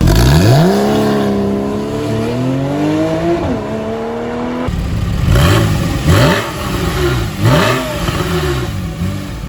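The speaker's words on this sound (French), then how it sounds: "des échappements sport lui offrant une sonorité inoubliable" A Porsche 991 Carrera 4S with sport exhaust revs hard, pitch climbing in long sweeps, then a series of sharp blips with crackling exhaust bursts close by.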